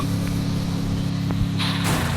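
An auto rickshaw engine drones steadily inside the Free Fire battle royale game, a continuous low mechanical hum that runs through the whole clip with a few small clicks and game sounds on top.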